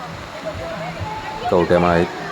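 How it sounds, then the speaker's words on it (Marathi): Water streams down from all sides at a water park in a continuous, near rushing hiss, with a person's voice rising over it briefly near the end. "असं चहूबाजूनी जेव्हा पाणी येतं तेव्हा ॲक्च्युली मजा येते बुवा खरंच."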